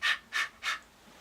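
A man imitates panting to demonstrate the harsh Arabic letter ha: three short, forceful breathy exhalations evenly spaced, close to the microphone, with no other talk.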